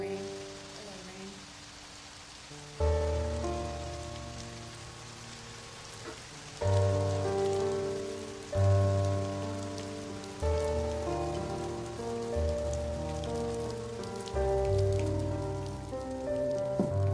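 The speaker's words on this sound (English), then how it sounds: "Hello, rain." Steady rain falls throughout, a soft continuous patter that sits under swelling orchestral music and low tones.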